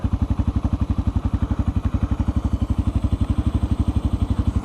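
A cold Honda Grom motorcycle engine warming up at idle, a loud, close, steady low putter with an even rapid rhythm and a faint mechanical clatter over it, no speech.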